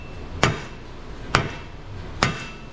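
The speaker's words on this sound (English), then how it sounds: "Let's kind of just hammer this thing in." A hammer strikes a 9.5-inch 14-bolt six-lug rear axle three times at an even, unhurried pace, each blow a sharp close metallic knock that fades quickly into a quiet garage.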